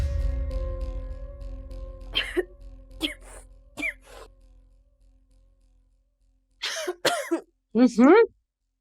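A person gives a few short coughs and throat-clears between stretches of speech, with a low hum in the background at first.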